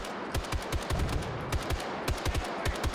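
Rapid bursts of machine gun fire in a Battlefield-style war video game, sharp repeated shots in clusters over a steady battle din, loud and close with no talking.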